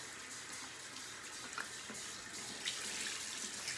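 Hot water runs from a tap into a bathroom sink, a steady close rushing splash that holds evenly throughout with no voices.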